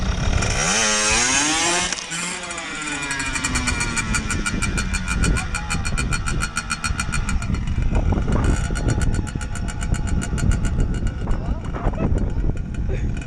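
A motorcycle engine revs and roars loudly, pitch climbing and falling repeatedly, with people talking nearby over the noise.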